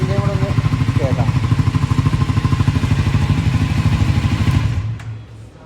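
A Triumph Scrambler 400X single-cylinder exhaust note thumps steadily and loud up close, a deep rhythmic pulse that fades away toward the end.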